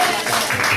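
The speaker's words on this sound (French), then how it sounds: "Applaudissez pour la gloire de Dieu" A church congregation claps in praise, a brief loud burst of close applause with some bass rumble underneath.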